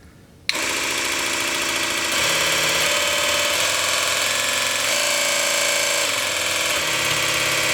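Electric motor humming steadily after a sudden switch-on, its tone shifting in steps as the power feeding it rises and falls; loud and close with a dense buzzing drone and no talking.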